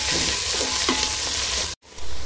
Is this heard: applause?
no